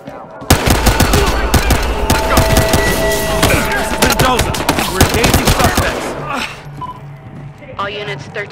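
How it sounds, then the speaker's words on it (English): Gunfire in the video game Battlefield Hardline: dense, loud automatic weapon fire crackling continuously for several seconds under shouted voices, then tapering into scattered shots and radio-style talk. "Multiple reports of gunfire."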